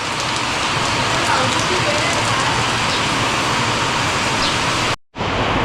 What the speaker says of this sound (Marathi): पाऊस बघा पाऊस केवढा आहे